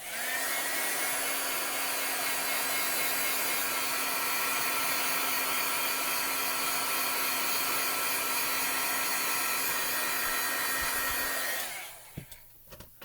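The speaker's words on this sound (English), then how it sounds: "I'm going to take my heat tool and just real quick heat this up before we watercolor it" A heat tool warming embossing powder blows a steady, loud whir that holds for about eleven seconds before cutting off, leaving a few faint handling clicks.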